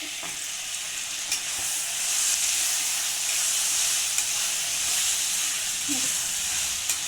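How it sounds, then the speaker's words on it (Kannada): Chopped tomatoes hitting a hot pan for an okra stir-fry, giving a steady, bright sizzle and hiss that holds throughout with a few faint clicks and no talk. "ಹೆಚ್ಚಿರುವಂಥ ಟೊಮೊಟೊ ಹಣ್ಣು ಸೇರಿಸ್ತಾ ಇದ್ದೀನಿ"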